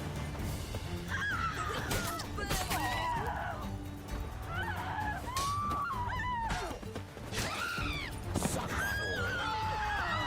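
Repeated horse neighs and whinnies ring out over busy Witcher 3 game noise and scattered voices, loud and close, several calls across the stretch.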